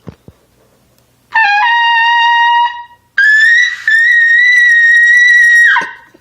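A trumpet played with a large volume of air: two long, bright sustained notes, the second held louder and longer, with a short pause between them, close and clear with no talking.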